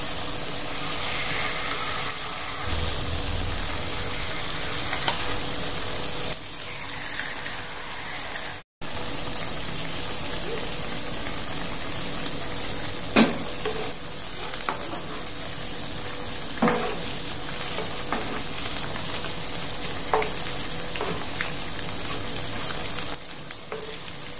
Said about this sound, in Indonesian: Lagi goreng kayak gini